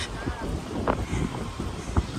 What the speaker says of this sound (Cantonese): 啲風吹埋嚟，好冰涼